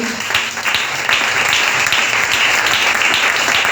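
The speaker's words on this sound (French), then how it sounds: "Est-ce qu'on peut encore acclamer pour la gloire de Dieu?" A church congregation at a seminar bursts into sustained applause and cheering for God's glory, a dense, loud wash of clapping from a crowd that builds and holds steady throughout.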